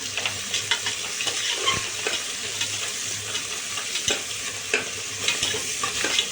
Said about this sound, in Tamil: அதனால் வெங்காயம் நல்லா வதங்கட்டும்